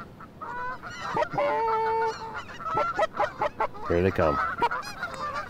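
A flock of geese flies in during a waterfowl hunt, many loud overlapping honks close by, with someone speaking briefly over the calls.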